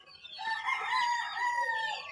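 A fighting rooster crows loudly and close, one sustained rising and falling call lasting nearly two seconds, with a brief cluck at the start.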